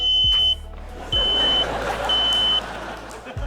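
A carbon monoxide alarm in a home at night sounds three steady, shrill beeps of about half a second each, evenly spaced and loud, over a constant low rumble.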